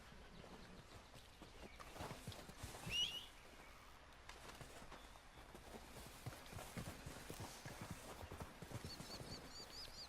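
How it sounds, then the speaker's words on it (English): Horse hooves clip-clopping in Red Dead Redemption 2, a steady rhythmic walking gait of quiet hoofbeats with a brief bird chirp in the game world. "this is Bill's horse"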